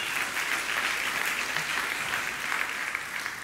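A church congregation applauds together in a steady, sustained wash of clapping that stays loud and even from start to finish, tapering only slightly at the end.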